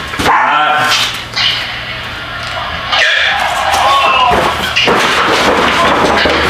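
A pet dog barks and whimpers indoors at home, loud and close, with repeated barks and whiny yelps spread across several seconds and a voice speaking in between.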